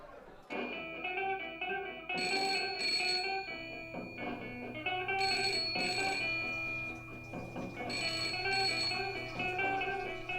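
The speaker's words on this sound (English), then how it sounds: "Telephone's ringing." A telephone rings repeatedly with a bright, electronic trilling tone, the rings coming in regular bursts close by.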